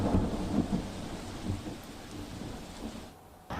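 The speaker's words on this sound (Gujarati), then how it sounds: "વરસાદ હવે ધીમી ધારે છે" Heavy monsoon rain with rumbling thunder, a low, continuous roar and wash of rainfall heard from a distance over a flooded city area, fading slightly near the end.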